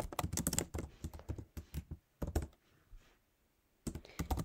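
Rapid bursts of computer keyboard typing while code is written, clicky keystrokes in quick clusters with short pauses between, close and fairly quiet, no talking.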